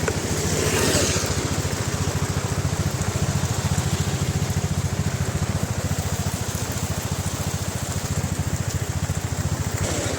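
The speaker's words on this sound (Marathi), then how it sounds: "पाऊस खूप आहे" Heavy rain falls at night at Upvan lake in Thane, a loud continuous wash of dense rainfall with a steady low rumble underneath.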